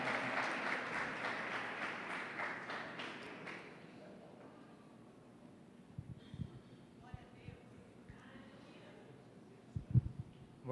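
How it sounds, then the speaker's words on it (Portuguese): A church congregation applauds. Dense clapping fills the first few seconds, then thins and fades into scattered claps and light room noise. "Aplauda o nome do Senhor pela vida do Gustavo."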